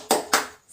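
Two sharp, loud group claps spaced about a quarter second apart ring out in a classroom as pupils start a 'tepuk semangat' clapping chant, with no talking over them.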